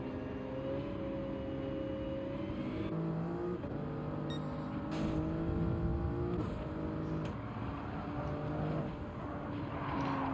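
Race car engines in Gran Turismo 7 drone and rev steadily throughout, shifting pitch with gear changes amid traffic at the start of a 20-lap race, loud and continuous without talk.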